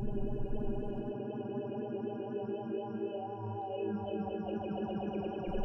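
Hive synthesizer tone with its filter table being scanned, a sustained harmonic pad whose overtones shift and ripple as the filter sweeps, with the low end dropping out and returning near the end.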